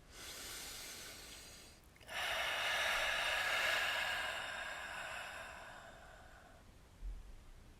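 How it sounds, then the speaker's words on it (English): Two slow cleansing breaths during a gentle yoga session, a short inhale followed by a long, breathy exhale released close by, with quiet stillness around them. "Last few cleansing breaths together."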